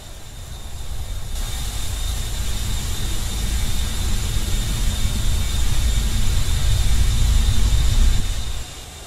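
A Beriev A-50 airborne early-warning jet on landing approach in the Roblox flight game Aeronautica, its steady engine roar and broadband rumble loud and constant throughout, fading out at the very end.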